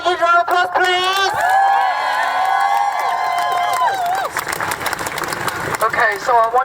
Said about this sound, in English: Mal, everyone, huge round of applause, please!